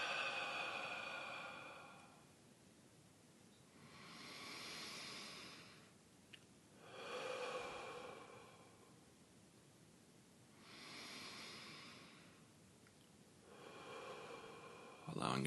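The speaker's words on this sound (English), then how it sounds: "We'll start with some deep breaths in through the nose and then out through the mouth." Slow, deep breaths drawn in through the nose and let out through the mouth, each long airy inhale and exhale rising and fading in a steady rhythm, close and quiet against a faint hiss.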